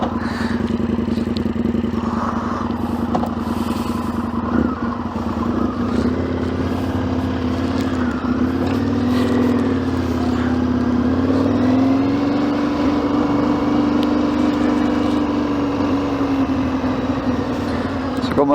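A motorcycle engine idles and runs steadily throughout while the rider, helmet open, waits near a sports-field car park used for riding practice; the low engine drone stays close and constant, with occasional clatter and light revving.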